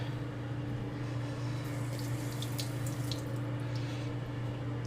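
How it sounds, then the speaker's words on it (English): Knife freshly sharpened on a Japanese natural whetstone rinsed under a running tap: a steady, close stream of water splashing continuously without pause, faint drips on top. "Give this thing a little rinse."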